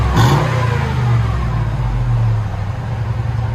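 A 2002-2006 Cadillac Escalade 6.0L engine revs up then holds a deep, throaty rumble through a Dynomax Super Turbo exhaust muffler, close and loud, with no talking.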